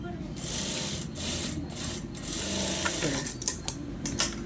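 A sewing machine stitches a border onto fabric with a fast, continuous whirring rattle, briefly pausing and restarting with short bursts near the end, and a voice talks over it.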